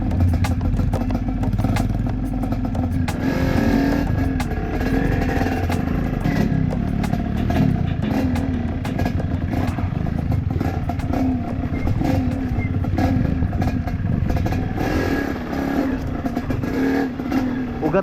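Motorcycle engines rev and rumble continuously on a dirt trail, with rattling and clatter over rough ground, loud and close throughout.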